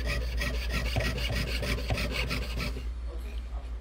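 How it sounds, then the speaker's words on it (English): Hand saw cutting through wood while making a ring with a Potter USA ring kit, fast even rasping strokes repeating up close for a few seconds before stopping. "I'm impressed by your straight line sawing. It's my magic saw."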